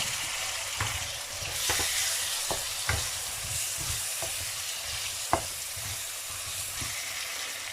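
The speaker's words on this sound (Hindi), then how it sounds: "अब हम आलू डालते हैं इसके अंदर।" Potatoes tossed into a hot pan for a potato, pea and carrot vegetable dish, sizzling steadily while a utensil scrapes and stirs at an uneven pace, close and fairly loud, with no voices.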